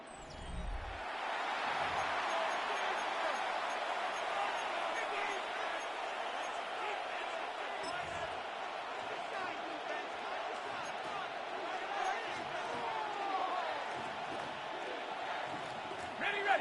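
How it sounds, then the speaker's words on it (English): Stadium crowd in an EA Sports NFL football video game, a steady loud roar of cheering fans building toward third down, continuous throughout with a commentator talking over it. "This crowd into it now as we get to third down."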